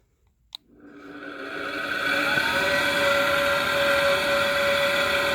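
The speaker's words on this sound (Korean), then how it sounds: "전자 펌프하고 먼저 송풍기를 가동하겠습니다" A click, then the blower fan of an aging oil boiler burner spins up, its whirring hum climbing steadily over a couple of seconds and settling into a loud, even drone.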